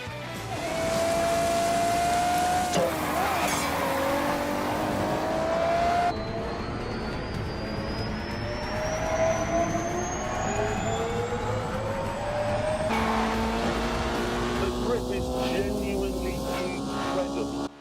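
Racing car engines from The Grand Tour video game roar and whine continuously, pitch rising and shifting as gears change, loud and steady throughout with no talking.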